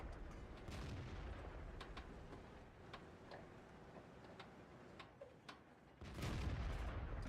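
Tank cannon fire from an M48 Patton match in World of Tanks, heard as sharp booming shots and ticking game sounds, with a heavier blast near the end and no speech.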